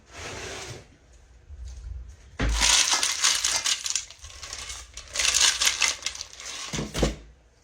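Ice cubes poured onto blanched peas, a clattering cascade of rattling and crunching bursts, close and fairly loud, after a few seconds of quieter handling.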